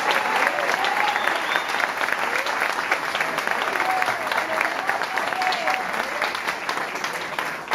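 Loud, sustained applause from a church audience at a sermon, steady and dense throughout, with faint voices or cheers mixed into the clapping.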